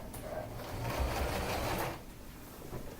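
A sewing machine runs steadily for about two seconds, stitching along a seam edge with a brief backstitch, a continuous buzzing whir that then slows and stops. A quiet voice is heard near the end.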